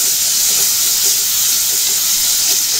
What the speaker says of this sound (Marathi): 2 मीडियम आकाराचे टोमॅटो एकदम बारीक चिरलेले, त्याला देखील आता आपल्याला फ्राय करून घ्यायचं आहे